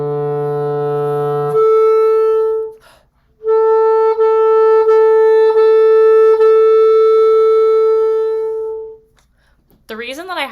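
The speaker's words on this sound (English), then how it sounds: "this first line should sound like this." A clarinet plays the opening line of a second-register exercise, moving from a low held tone to long, articulated upper notes with brief pauses between them. A short voice enters at the very end.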